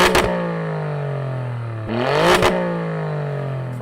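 An Alfa Romeo Stelvio Quadrifoglio (510 hp) in race mode idles with a low, steady sports-exhaust drone, then revs sharply once around the midpoint before settling back to a loud, rumbling idle.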